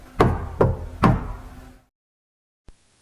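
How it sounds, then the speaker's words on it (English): Three loud, evenly spaced knocks on a door ring out close by in a quiet home at night, each with a short resonant decay, followed by silence and one faint click. "the knock returned. 3 taps. Pause. 3 taps."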